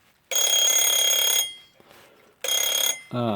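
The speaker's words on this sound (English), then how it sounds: "The alarm comes on at the wrong time." An old mechanical alarm clock with a fault that makes it go off at the wrong time rings loudly and close up in two bursts, a long one of about a second and a shorter one, with a quiet pause between.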